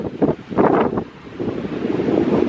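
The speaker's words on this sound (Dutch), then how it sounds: "want het waait overal mega hard." Strong wind on a beach pier buffets the microphone in loud, rumbling gusts, with a constant roar that swells and eases without a break.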